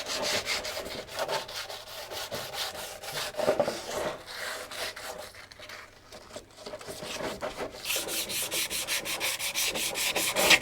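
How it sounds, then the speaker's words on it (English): Steady back-and-forth hand sanding of a painted metal panel on a cafe racer motorcycle scrapes in a rapid, rhythmic rasp, close up, pausing briefly midway before resuming harder. "So we are nearly there with this first bit of sanding."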